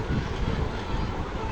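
A train passes near a house, giving a steady, loud rumbling roar with low mechanical rattling that holds evenly throughout the brief moment.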